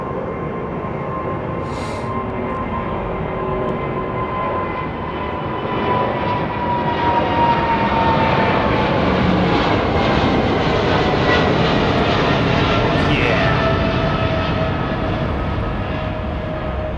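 An aircraft departing Heathrow Airport gives a loud, steady jet roar. A whine holds through it, and the sound swells and peaks near the middle before easing slightly. No voices are heard.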